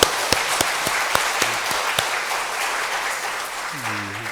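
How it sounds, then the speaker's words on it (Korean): A church congregation at a Sunday service claps for the choir, with a few sharp, distinct claps at the start blending into a broad wash of applause that gradually fades as a voice begins to speak. "성가대 다시 한번 감사의 박수 보낼까요?"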